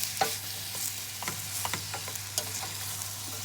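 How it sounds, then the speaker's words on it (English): Onions fry in a pan for a vegetarian Moroccan couscous. A steady sizzle runs under repeated short clicks and scrapes of a stirring utensil, close and without voices. "Mix it until the onions start to roll and turn a little golden brown."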